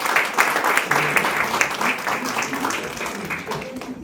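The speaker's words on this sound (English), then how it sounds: "So please give a big round of applause to Dr. Doctor." An audience at a panel event on mental health in Malaysia applauds. The clapping is dense and sustained, and it fades gradually toward the end.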